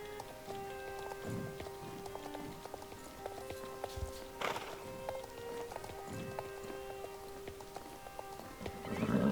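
Steady horse hooves clip-clopping with an occasional whinny in a video game, set against a busy layered background of music-like tones and patter.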